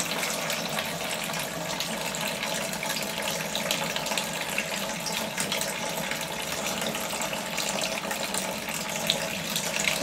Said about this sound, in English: Really getting a good flow of juice there.